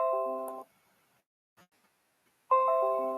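Push notification chimes from a coding script on a computer: a short bright multi-tone chime rings and fades, a brief quiet gap with tiny clicks, then a second identical chime sounds, clean and close.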